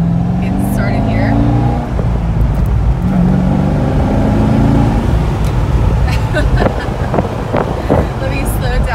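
A 2006 Chevrolet Corvette Z06 engine pulls hard while driving, a loud, steady, rising drone with wind buffeting over it that continues through the whole stretch.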